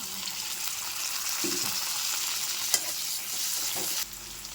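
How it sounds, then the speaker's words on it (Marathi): Onion and tomatoes fry in a pan for an okra (bhindi) vegetable dish, a steady close sizzle with soft stirring scrapes, one sharp clink near the middle, and a quieter tail. "कांदा टमाटर फ्राय झाला"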